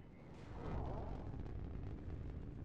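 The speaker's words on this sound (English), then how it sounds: "Missile launched." A missile launches in a video game as a loud, deep roaring whoosh that swells quickly and rumbles steadily for a couple of seconds.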